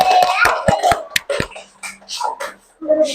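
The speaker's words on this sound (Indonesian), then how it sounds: "Kasih tepuk tangan." Children in a classroom clap their hands in a quick, uneven burst of sharp claps, followed by scattered quieter sounds and faint voices.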